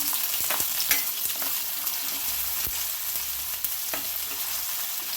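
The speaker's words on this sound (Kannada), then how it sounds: "ಈರುಳ್ಳಿ ಹಾಕ್ತಾಯಿದ್ದೀನಿ. ಈರುಳ್ಳಿನ ಫ್ರೈ ಮಾಡೋಣ." Chopped onions sizzle in hot oil in a pan while vegetable fried rice is being made. The hiss is loud, dense and continuous, with occasional sharp crackles and pops from close by.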